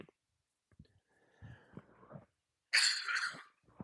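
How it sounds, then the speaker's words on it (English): A man off-mic stifling a cough: quiet breaths and throat sounds, then one sharp burst of coughing near the end, close and fairly soft. "I had to cough."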